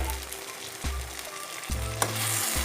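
Tomatoes frying in a pan for an Assamese tomato and gourd fish curry, a steady close sizzle with rhythmic stirring scrapes every second or so, no voices.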